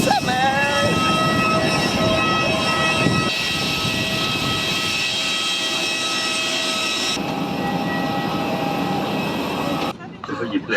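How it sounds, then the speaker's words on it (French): An airliner's jet engine whines and roars steadily at an airport, with sustained high tones over a broad rumble, people talking nearby, and the noise cutting down near the end. "Regardez cet avion."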